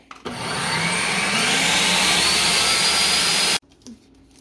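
An electric mixer whirs steadily for about three seconds, blending caramelized sugar into Christmas fruit cake batter, a loud, even motor drone that starts abruptly and cuts off cleanly.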